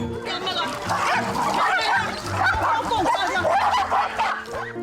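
Several dogs at home bark and yip excitedly as they gather for their daily exercise and ball play, a busy, close chorus of yaps with a voice talking over them.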